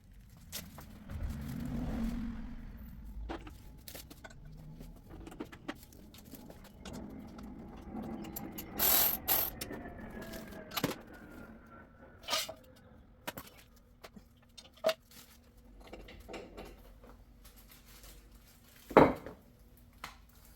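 Someone takes apart an AEM cold air intake on a 2013 Mazda NC MX-5, with close metallic clinks, taps and clatter of parts at irregular intervals, including a few sharp knocks, over a quiet background.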